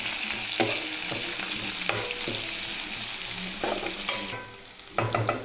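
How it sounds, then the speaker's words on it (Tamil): Curry leaves and green chillies sautéing in hot oil in a pan, a continuous sizzle broken by repeated scraping and clinking strokes of a spoon as they are stirred. "கருவேப்பிலை, பச்சை மிளகா போட்டு நல்லா வதக்கி விட்டுக்கோங்க."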